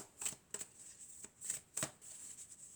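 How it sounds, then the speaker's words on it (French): Oracle cards are shuffled and drawn, faint close riffles and crisp flicks in several quick bursts, quiet with no talk. "je vais commencer par tirer quelques cartes de l'oracle de la triade pour commencer ce tirage"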